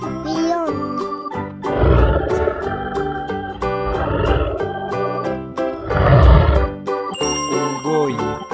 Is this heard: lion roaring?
yes